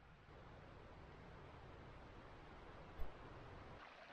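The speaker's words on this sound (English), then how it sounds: "Flowing water in Oak Creek." Flowing water in Oak Creek in the Galiuro Mountains of Arizona gives a steady broadband rush that is soft and continuous throughout, with one brief low thump near the end.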